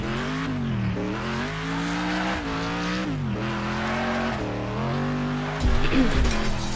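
Car in the driving game Next Car Game revving hard with rough, wavering engine tones and skidding, then a sudden loud crash impact near the end.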